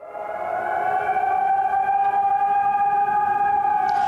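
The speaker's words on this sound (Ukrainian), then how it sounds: "Ось зараз також чуємо звуки повітряної тривоги." A loud, steady air raid siren wails continuously at close range in Kharkiv, Ukraine, holding a sustained droning tone with no voices.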